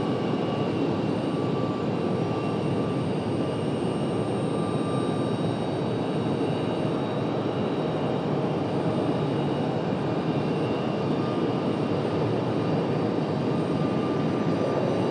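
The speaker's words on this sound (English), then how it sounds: "Gonna have that Southwest departure in just a minute." A Southwest Boeing 737 departing Raleigh-Durham International airport, a steady broad jet engine roar held at constant loudness throughout, with no talk.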